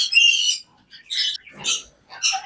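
Several harsh, shrill squawks from an Eclectus parrot in short bursts separated by brief pauses, loud and close.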